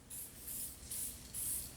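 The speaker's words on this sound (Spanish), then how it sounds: "los fuselajes de aluminio fueron pintados con aerosol negro" Black aerosol paint is sprayed onto aluminium bodywork of a 2003 Harley-Davidson V-Rod motorcycle in four short, hissing bursts of even length, close and clear with brief gaps between them.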